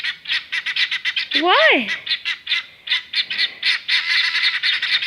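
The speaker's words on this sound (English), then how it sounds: "You hear the guineas? Told you they'd alarm soon." Guinea fowl sounding alarm calls, a rapid repeated chattering series of harsh notes continuing throughout, with a brief loud squawk in the middle and a single short spoken word.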